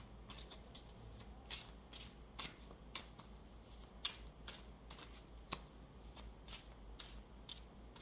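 A deck of cards shuffled for a reading, quiet close riffling bursts repeating at a quick irregular rhythm, with no speech.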